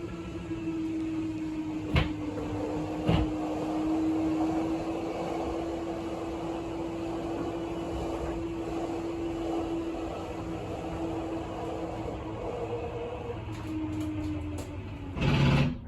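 The slide-out motor of a 2021 Crusader 305RLP RV's kitchen slide hums steadily for about thirteen seconds as the room extends, with a couple of sharp clunks early on and a heavy thud as it stops.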